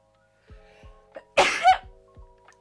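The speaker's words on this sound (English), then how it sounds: "Oh, I'm gonna sneeze." A single sharp sneeze bursts out loudly near the middle, preceded by a few soft breaths and clicks, with quiet breathing afterward.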